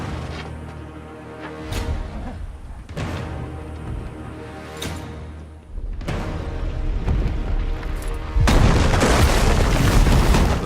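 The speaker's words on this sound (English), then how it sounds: "the moment that the King's Landing gate is obliterated by dragon fire" In a Game of Thrones battle scene, dragon fire blasts apart the King's Landing gate in a series of deep booming explosions with rolling rumble, building to a loud, dense roaring burst at the end.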